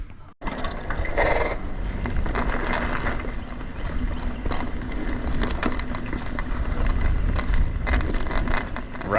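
A Pivot Switchblade mountain bike rolls along a trail with a continuous loud rattle and clatter, rough broadband rumble and wind buffeting the microphone, close and unbroken throughout.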